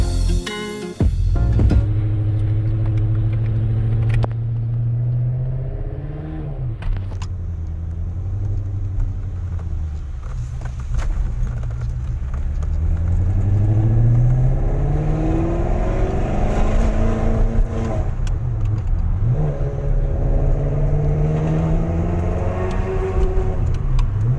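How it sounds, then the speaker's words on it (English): A gated-manual Ferrari 360 V8 revs and pulls through gears on a ride, loud, close and continuous, its pitch rising and falling with each shift and no talk over it. "Earlier this year, I went for a ride in a beautiful gated manual 360."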